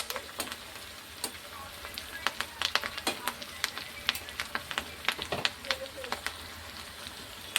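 Chicken pakoda with cashews frying in hot oil, a steady close crackle with sharp pops and spits scattered throughout, no talking.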